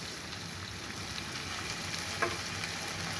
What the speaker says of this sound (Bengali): এখন আমি এটাকে একটু ভেজে নিচ্ছি।